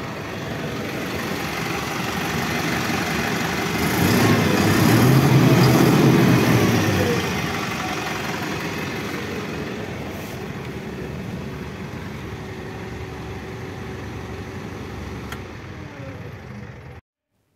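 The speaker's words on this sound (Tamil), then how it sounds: "இப்போ வண்டியை ஸ்டார்ட் பண்ணி இன்ஜினோட சவுண்ட் கேட்போம்" An Ashok Leyland 2825TN BS6 10-wheeler truck with a rock body starts up and idles, a steady low diesel rumble that swells briefly near the start and then settles into an even idle until it cuts off.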